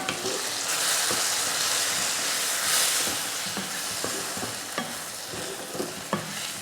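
Coriander powder and chili powder sautéing in a pan for a tamarind curry with okra, giving a steady loud sizzle and hiss with repeated scraping stirs of a spoon throughout.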